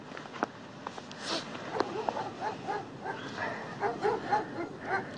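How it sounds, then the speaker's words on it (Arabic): Several dogs bark and yip outside a village in Morocco, a run of sharp, scattered barks and whimpers at moderate distance, with a voice faintly present beneath them. "ما كان والو صداع غير الكلاب هادوك كلاب كلاب"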